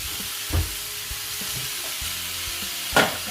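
Shrimp noodle topping stir-fried in a wok over high heat, a steady close sizzle with scraping stir strokes and two sharper clanks of the spatula against the pan.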